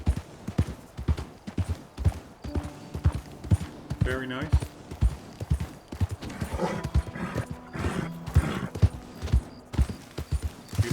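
Steady hooves of a slow-moving horse clip-clop in Red Dead Redemption 2 at sunrise, a continuous close rhythmic beat with a brief whinny partway through and someone speaking over it.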